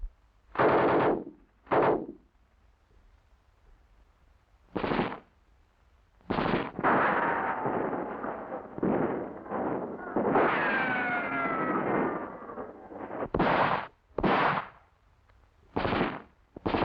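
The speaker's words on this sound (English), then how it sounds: "Heavy MGs have especially good firepower. Like here, they're often emplaced right in the front line." Heavy machine guns emplaced at the front line fire in short loud bursts separated by pauses, sharp and close, with sustained rattling volleys in the middle and no voices.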